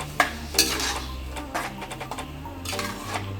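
A spoon scrapes and clinks against a metal pot while ground coconut, ginger and garlic masala is mixed in for vegetable kurma, giving a few sharp taps and a steady close scraping with no talk.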